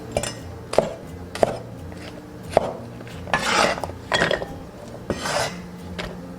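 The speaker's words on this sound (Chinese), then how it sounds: "1小把甜豆对半切开" A knife cutting a small handful of snap peas in half on a cutting board, giving crisp, irregular chops and scraping knocks spaced about a second apart, close and clear with no talking.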